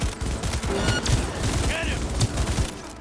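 Bursts of gunfire from the Skippy smart pistol in Cyberpunk 2077 crack over dense combat noise, with rapid shots and a clanging mechanical chirp, loud and close with voices mixed in.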